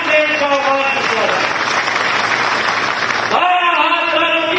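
A crowd at a floral tribute ceremony for Peshwa Bajirao I's birth anniversary breaks into dense applause for a few seconds while a voice keeps talking over it, and the clapping fades out as the speech continues.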